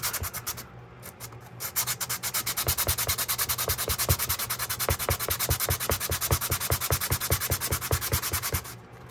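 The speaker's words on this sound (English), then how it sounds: "I actually won't really hurt anything to sand that side." Close, rhythmic sanding strokes scrub back and forth over the rusty side of a USM3 knife scabbard, a steady rasping rub repeating evenly for several seconds.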